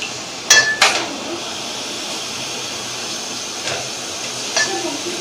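Onions dropped into hot oil in a pan for a kaleji curry bring a couple of clattering utensil knocks, then a steady moderate sizzle and hiss, with faint clinks later.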